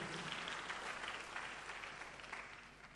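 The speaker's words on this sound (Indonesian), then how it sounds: "Tepuk tangan yang paling meriah buat Allah." A church congregation breaks into continuous, dense applause during a pastor's sermon, heard from some distance as a soft, even wash of clapping with no speech over it.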